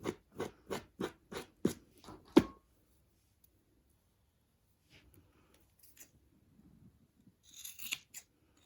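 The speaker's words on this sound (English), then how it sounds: "I'm just going to trim it so it's all nice and neat" Scissors trim macrame yarn for a Christmas tree decoration with about eight quick, crisp snips in a regular rhythm, followed by near silence and a few faint rustles and handling sounds.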